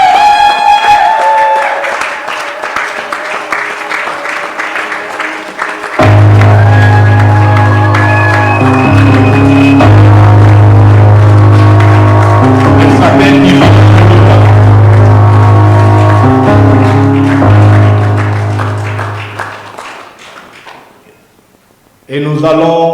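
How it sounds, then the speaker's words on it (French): Wedding guests cheer and applaud the ring bearers at a ceremony, loud sustained clapping and crowd noise mixed with music and voices, fading out near the end before a brief return. "Encourageons-les aussi par nos acclamations."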